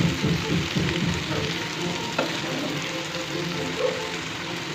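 Ivy gourd (dondakaya) fries in a pan with coriander powder and garam masala, giving a steady close sizzle with occasional stirring scrapes throughout.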